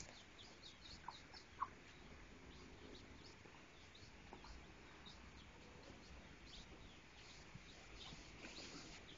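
Chicken clucking in short scattered bursts, faint and somewhat distant over steady outdoor background noise, with no talking.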